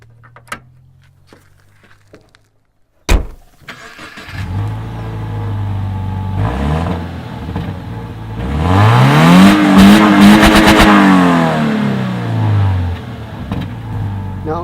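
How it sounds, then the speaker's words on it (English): A 2017 Subaru Impreza cranks and starts after a short quiet stretch, then idles and revs up loudly as it pulls away, the engine note rising and falling close by. "we'll start her up and take her for a cruise"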